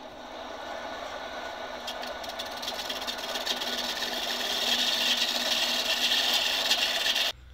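A chisel scrapes steadily against spinning wood on a bicycle-powered lathe, a continuous close rasping hiss that slowly grows louder and then stops abruptly near the end.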